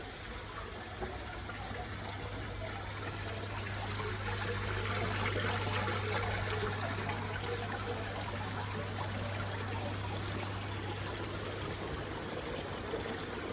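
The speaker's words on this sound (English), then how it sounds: "All sorts of fountains, look, this one too, look." Garden water fountains trickle and splash continuously, a steady even wash of running water heard close by with no voices and little change over time.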